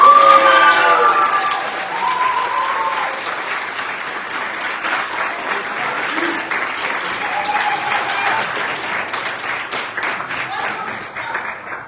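Sustained audience applause fills a room at a student entrepreneurship pitch competition, loud at first and then settling into steady clapping, with a few voices audible through it.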